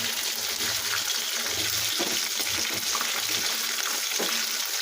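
Chicken kebab pieces frying in hot oil, with a loud, close, continuous sizzle and spluttering crackle throughout, no talking.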